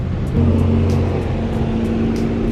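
A deep, rumbling Nissan GT-R V8 engine idles and revs nearby, a steady throaty drone with a slight rise in pitch, no voices.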